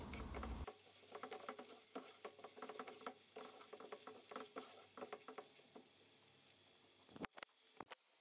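Rice and ingredients for stuffed dolma fry in a pot, a soft steady sizzle under repeated spoon scrapes and stirring taps, close and quiet with a couple of sharper clinks near the end.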